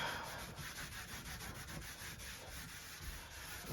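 Someone scrubs Citristrip stripping gel off a fiberglass door with a quiet, continuous rubbing sound made of rapid back-and-forth strokes, heard close and alone.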